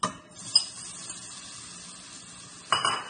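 Bananas dropped into caramelized sugar in a pan, giving a soft steady sizzle with a couple of sharp utensil clinks against the pan at the start and the end.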